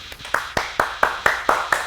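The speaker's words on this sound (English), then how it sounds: "Everybody clap." Clapping during a live Undertale stream, a run of about eight crisp, evenly spaced claps at a quick steady beat, close and clear.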